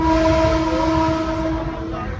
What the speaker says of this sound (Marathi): टायमावर आली आहे ट्रेन आज